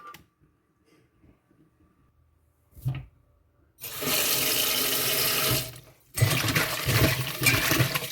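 Dried chillies being rinsed in a bucket of water, with a short splash around three seconds, then two long bursts of loud running and sloshing water close by.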